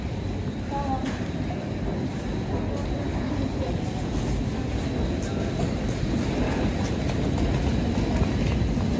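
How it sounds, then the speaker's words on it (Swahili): An underground train at a subway station in Bonn, Germany, a steady loud rumble of rolling rail cars with faint squeals and a constant station din throughout. "Kituo cha treni za chini ya ardhi."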